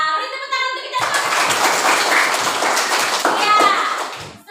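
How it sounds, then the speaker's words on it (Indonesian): A class of third-grade elementary school children clap their hands together, a brief burst of close, busy clapping mixed with children's voices, after a teacher's spoken lines. "beri tepuk tangan untuk kita semua"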